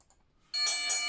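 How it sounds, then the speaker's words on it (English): Bells ringing at a Hot Wheels die-cast car race tournament, a sudden bright sustained metallic ring starting partway through after near silence, loud and close. "There's the bells."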